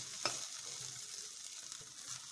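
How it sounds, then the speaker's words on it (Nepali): Onion, garlic and ginger frying in a pan are stirred with a utensil, giving a steady soft sizzle with a sharp scrape near the start and light stirring scrapes throughout, close and fairly quiet. "प्याज, लसुन र अदुवा थिचेर राखेको, अब यसलाई मिक्स गर्छौँ।"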